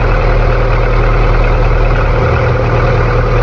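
A Honda Integra engine idles steadily and loudly up close after an idle fault was fixed, a smooth continuous low hum with no talk over it.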